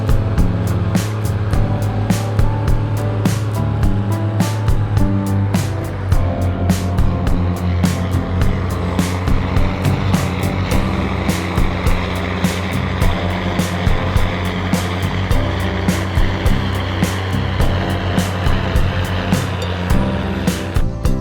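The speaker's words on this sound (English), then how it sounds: "a seasoned operator watches a machine cross a deep body of water" A tractor crosses deep water. Its engine drones loudly and steadily the whole time, with water sloshing and splashing around the machine and no talking.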